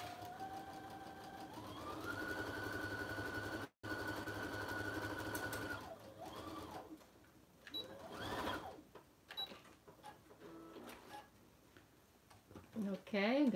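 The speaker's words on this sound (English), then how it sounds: "I'm gonna sew this one also" A sewing machine stitches a simple messenger bag, running in a steady close whir for several seconds, pausing briefly, then resuming in shorter bursts as a person talks nearby.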